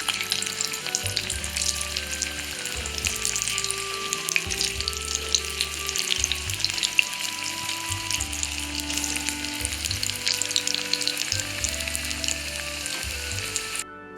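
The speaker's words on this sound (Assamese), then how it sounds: "লাড়ুকেইটা মিডিয়াম ফ্লেমত মই এতিয়া ৰঙচুৱা হোৱালৈ ফ্ৰাই কৰি ল'ম।" Raw banana kofta balls fry in oil over a medium flame with a loud, dense, continuous sizzle and crackle held close and steady throughout, with no talk.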